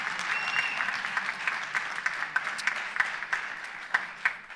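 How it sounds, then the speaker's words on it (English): An audience at a school band concert applauds the students, a fairly quiet, distant spread of clapping with individual claps popping out sharply over the steady patter. "So give them a round of applause, please."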